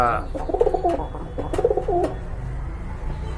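Pigeons coo in a few rounded, repeated phrases close by in a loft where a breeding pair of large birds sits over two eggs, with low background rumble and a voice faintly present.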